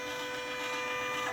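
A Poolin E0C06 embroidery machine traces its design outline with a faint, steady electric whir and hum, no stitching strikes, quiet and continuous.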